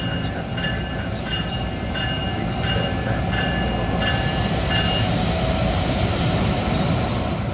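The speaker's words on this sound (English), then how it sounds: "You can see a limited clear signal for train 98, the Silver Meteor en route from Miami to New York." The Amtrak Silver Meteor, train 98 from Miami to New York, rolls past the Trenton station platform with a steady loud rumble of wheels and faint high squeal, continuous and close, no voices.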